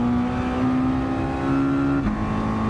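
In Gran Turismo 7, a Mazda race car engine drones at high revs in a steady, sustained tone, then drops sharply in pitch as the car slides a little sideways.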